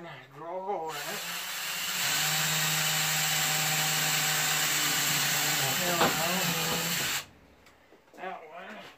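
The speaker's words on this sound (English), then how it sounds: "drill a hole in it" A power drill whirs at a steady high pitch for about five seconds, then stops; brief voices are heard before and after.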